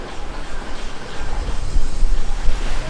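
Ocean waves lap along a Malaysian island shore as boats pass offshore, a continuous low wash of surf with soft wind rumble that swells slightly louder toward the end, with no talking.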